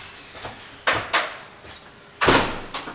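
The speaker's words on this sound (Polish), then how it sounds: "Zamknę drzwi tylko." A door being shut indoors in an urban garden setting, heard as a few sharp knocks and thuds spread across the moment, the loudest bang near the end, with no voices.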